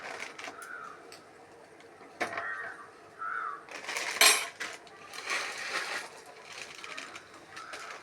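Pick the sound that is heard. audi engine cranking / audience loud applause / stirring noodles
stirring noodles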